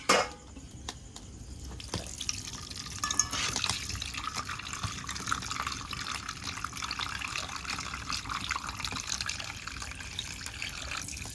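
Chicken meat is rinsed under running water, a soft steady trickle and splash with occasional drips and handling knocks, fairly quiet and close, without speech.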